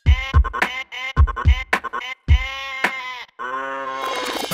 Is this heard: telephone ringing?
no